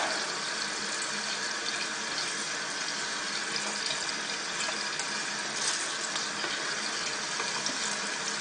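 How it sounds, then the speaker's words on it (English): A disposable e-cigarette clearomizer being rinsed with water poured in and dumped out repeatedly, giving a constant close-up rush and splash of running water that carries on unbroken for several seconds. "keep putting water in it"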